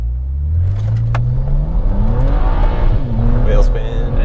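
BMW with an N54 engine and 17T hybrid turbos accelerating hard in manual mode with traction control off, wheels spinning; a loud rising engine note climbs through the gears with tire noise, and people talk over it.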